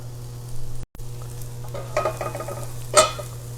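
Potatoes frying with a dab of butter in a pan, a soft steady sizzle with light stirring and a brief clatter near the end, no talk.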